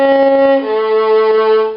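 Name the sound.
violin playing measure 107 of The Wizard of Oz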